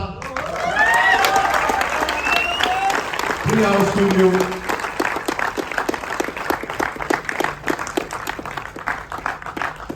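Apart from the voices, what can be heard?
audience applause for background score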